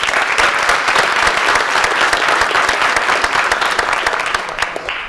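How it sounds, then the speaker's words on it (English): Audience applause for a student band member in a school setting, a dense burst of clapping from a crowd that carries on steadily and tapers slightly at the end, with no talking. "Round of applause for Tyler"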